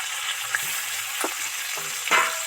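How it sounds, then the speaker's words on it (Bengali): Chopped onion fries in hot oil in a pan with a steady close sizzle, broken by a few scraping stirs and soft utensil knocks. "এবার পেঁয়াজ কুচিটা এর মধ্যে দিয়ে দেবো"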